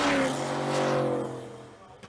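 Drag race cars rev and launch at a drag strip, a Crown Victoria in the left lane, giving a loud, roaring engine blast that rises and then fades over about two seconds.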